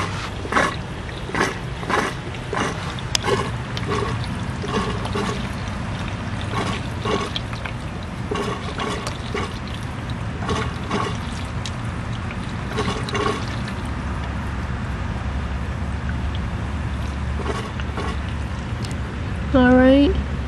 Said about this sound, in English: Now that bell siphon just taking its breath.